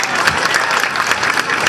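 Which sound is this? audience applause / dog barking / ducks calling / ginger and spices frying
audience applause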